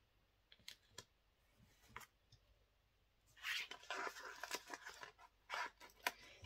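Scissors snip through paper for a folio in a quiet, close ASMR-style setting, with a few sparse clicks early on, then a dense run of crisp cutting and rustling strokes.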